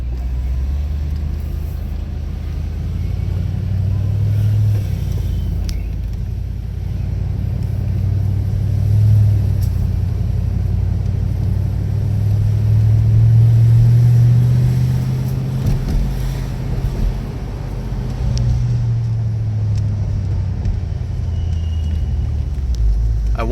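A 2007 Mercedes-AMG SL55 rides along with its engine giving a deep, loud low rumble that swells and eases as it accelerates, heard from inside the car with no talking.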